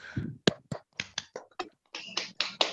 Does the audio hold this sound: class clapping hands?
yes